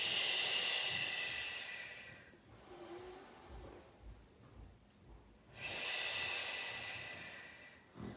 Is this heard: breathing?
yes